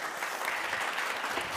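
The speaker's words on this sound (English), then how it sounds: "Please give them a round of applause." A crowd claps steadily, a dense, even wash of applause from many hands without pause.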